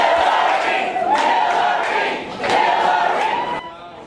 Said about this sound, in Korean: 환호를 받으며 책 사인 회장에 들어서는 힐러리 클린턴 전 미국 민주당 대선 후보